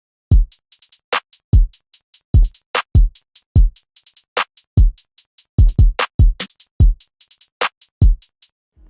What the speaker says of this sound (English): And then next I added the snare that just hits at the end of each 4 bars